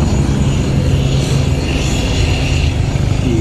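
A Mi-24 Hind military helicopter at the ILA Berlin Air Show 2016 produces a loud, steady, broadband engine and rotor roar that continues without a break.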